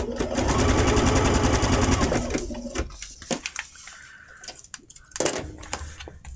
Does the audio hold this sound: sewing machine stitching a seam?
yes